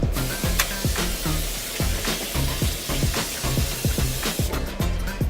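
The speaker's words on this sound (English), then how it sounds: "They hear a little sizzle, but not much, because I did have it preheated." A soft, steady sizzle crackles close by as a pork roast settles into a preheated crock pot, with irregular taps and scraping underneath.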